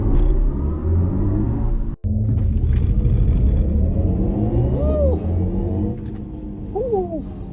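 A BMW i4 M50 electric car surges forward in a launch-control start, giving off a loud, steady low rumble and road roar, with a brief cut partway through and faint rising whine-like tones later.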